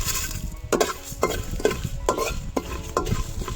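Dried red chillies and coriander seeds dry roasting in a hot wok for kuler achar, a jujube pickle, with a spatula scraping and stirring in a steady rhythm of about one stroke every half second, close and clear, with no talk.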